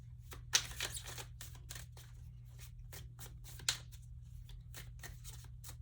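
Tarot cards are shuffled quietly and close up in a series of quick papery riffles and flicks, with a couple of sharper snaps, over a steady low hum.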